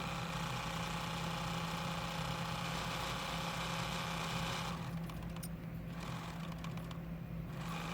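A sewing machine runs steadily, satin stitching around the wings of a butterfly applique on a quilt block, giving a continuous, fairly quiet mechanical hum that changes slightly in tone partway through.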